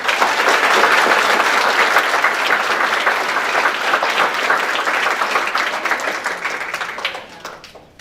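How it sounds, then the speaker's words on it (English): A room full of people at a school board meeting gives students a big round of applause, strong continuous clapping that slowly thins and fades out near the end. "Let's give them one big round of applause."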